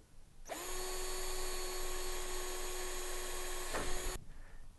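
A power drill driving self-tapping screws whirs steadily at high speed for several seconds, its pitch briefly dipping as it bites in, then stops abruptly.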